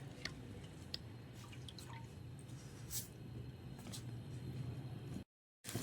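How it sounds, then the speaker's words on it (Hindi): Three eggs frying in about four spoons of hot oil, a faint, steady crackle with small pops and spits throughout, then a brief drop to silence near the end. "तो अंडे हमारे फ्राई हो रहे हैं।"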